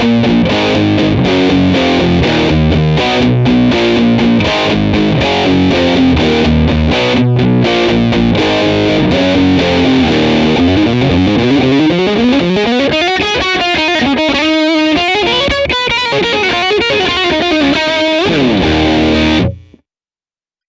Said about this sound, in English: This is Plustortion, which is based off of the MXR M104 distortion.